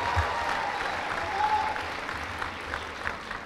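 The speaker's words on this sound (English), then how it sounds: "Give yourselves a round of applause" Graduates applaud at the Bronx Community College commencement for the Class of 2014, a steady, moderately loud wash of clapping that holds evenly throughout with no voices on top.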